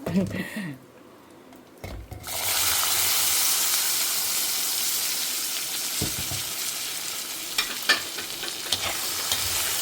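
Lentils roasting in a hot pan give a steady, fairly loud sizzling hiss with a few stirring scrapes after a quieter opening with brief voice-like sounds.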